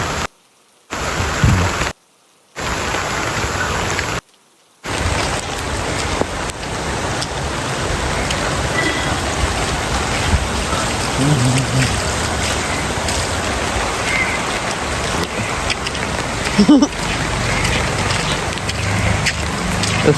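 Steady, dense rain falls close by around a home, a continuous hiss of drops on surfaces that holds evenly after a couple of brief cut-outs at the start, with no voices.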